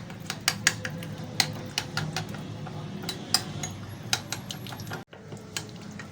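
Ginger garlic paste, lemon juice and salt being mixed for a fish curry, heard as a run of sharp clicks and taps of a spoon against a bowl, fairly close and irregular, with a brief pause near the end.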